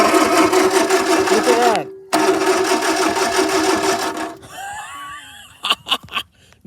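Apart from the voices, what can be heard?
1950s Fawcett Ford tow motor engine cranking and starting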